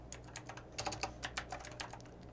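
Keystrokes on a computer keyboard while editing button text in Android Studio, a steady run of close, crisp clicks in irregular bursts over a low hum, with no voices.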